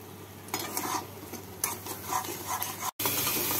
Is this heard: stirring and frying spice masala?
yes